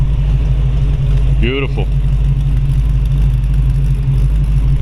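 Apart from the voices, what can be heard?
1932 Ford Deuce coupe engine running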